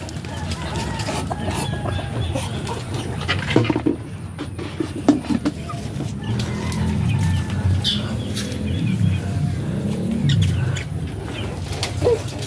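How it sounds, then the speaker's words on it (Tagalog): Brahma chickens cluck intermittently nearby on a backyard farm, with scattered bird chirps and rustling. "manok na Brahma"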